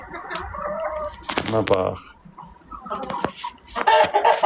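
Ordinary village rooster clucking in short bursts and calls near the microphone, with people talking over and between the bird sounds.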